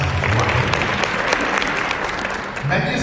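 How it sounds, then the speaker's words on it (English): An audience at a plenary session of a professional convention claps in a dense, steady burst of applause that holds for about three seconds and fades slightly near the end. "you can hand clap after the question is answered"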